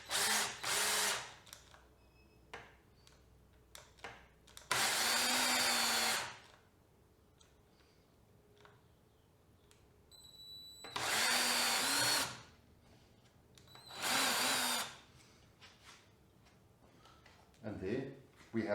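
A power drill, switched out of hammer mode, whirs in several short bursts drilling a hole, starting and stopping, with quiet talking and handling noises in the pauses between.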